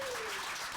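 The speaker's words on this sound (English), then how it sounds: "I think there should be a multi-generational round of applause." Applause from the audience of a generational panel at the 2024 NYC Fest, a steady dense wash of clapping filling the brief moment, fairly faint and even throughout.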